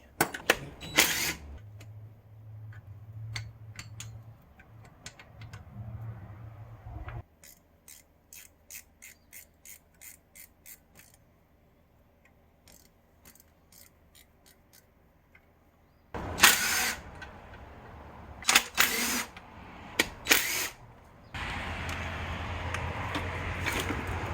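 On a budget 383 stroker engine build, a power tool undoes the cylinder head bolts in loud, close bursts of whirring and rattling, separated by a quieter stretch of sharp clicks and clinks.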